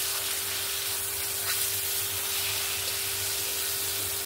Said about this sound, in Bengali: বড় বড় করে টমেটোগুলো কেটে রেখেছিলাম, এটাও দিয়ে দেব। দিয়ে এটাকেও নাড়াচাড়া করে নেব একবার